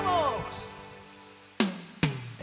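Rain begins to fall drop by drop as a few sharp, separate droplet impacts land late in the moment, after a fading tonal sound and a quiet stretch.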